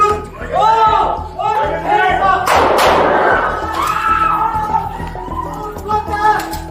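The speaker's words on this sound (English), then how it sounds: "Shots fired!" A police officer fires a gun inside a senior living facility at a man wielding a chainsaw; a single loud, sharp blast bursts out mid-clip amid frantic shouting voices.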